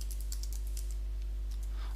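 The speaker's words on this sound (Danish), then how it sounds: "Derefter så skriver du dit kodeord" Keys tapped on a computer keyboard while a password is entered during account sign-up, faint and sparse clicks over a steady low hum.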